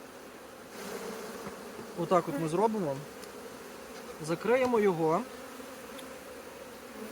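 Honeybees hum steadily in the background while someone speaks in two short phrases over the buzzing, as bees are shaken from open brood frames.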